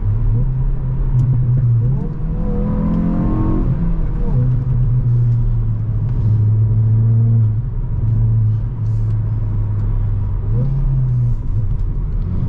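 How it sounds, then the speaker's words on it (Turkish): A Hyundai i20 N engine hums steadily from inside the cabin during a rolling drag race, its pitch rising briefly as it accelerates, with a voice talking over the drone at times. "Şöyle hafiften arabanın sesini de alıyorsunuz."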